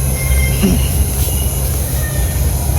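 Loud, continuous rumble of a train passing close by below, with rolling wheel noise and a faint high squeal.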